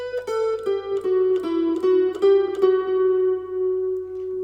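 Electric guitar playing a riff as single plucked notes at a slow, even pace without tremolo picking, each note ringing and sustaining into the next, close and clear with a long fading tail.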